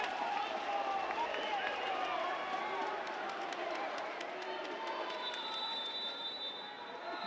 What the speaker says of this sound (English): The crowd really likes Stoll's little dribble moves.